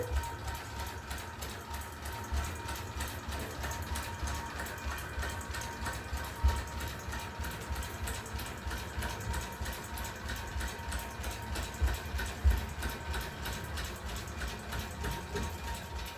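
A longarm quilting machine runs steadily while basting long stitches across a quilt, giving a continuous, rhythmic mechanical whir and clatter that stays even throughout with no voices.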